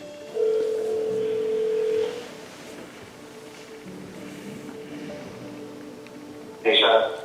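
A phone call rings out with a steady tone near the start, clear and sustained for under two seconds, followed by a quiet room with low talk and a brief burst of noise at the end.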